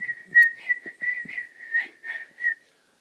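A person whistles an imitation of a swamp sparrow song: a steady series of about nine clear, evenly paced whistled notes, close and fairly loud, then silence.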